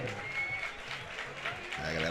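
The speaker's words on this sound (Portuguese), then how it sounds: "Aí, galera, aplaude os brasileiros." A crowd at a beach tennis match applauds the players as they come onto the court, the clapping moderate and somewhat distant beneath a loud announcer speaking over it.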